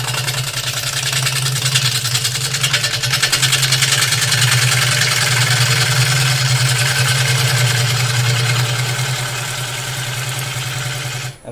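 A wood lathe spins a piece of wood while a gouge cuts with its bevel rubbing. A steady low motor hum runs under a continuous, slightly fluttering scraping hiss from the cut, loud and close throughout.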